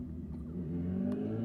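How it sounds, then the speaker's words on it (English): A motorcycle revs as it passes by outside a room with closed blinds, a low steady engine rumble heard through the wall, fairly faint and continuous with a slight rise toward the end. "Thank you for revving your motorcycle right by."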